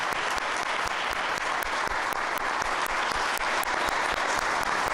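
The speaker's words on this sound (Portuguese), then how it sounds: "foi aplaudido por colegas, autoridades e jornalistas durante a entrevista coletiva" Colleagues, authorities and journalists at a press conference clap steadily in a dense, continuous burst of applause.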